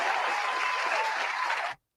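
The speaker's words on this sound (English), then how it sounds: "Somebody give a round of applause." Sustained applause from a panel-show audience, dense and steady throughout before cutting off abruptly near the end.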